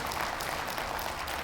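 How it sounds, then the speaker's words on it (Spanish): Audience applause during a church sermon, a steady dense wash of clapping sustained at even loudness throughout, with no voices rising above it. "me alegra que aplaudan"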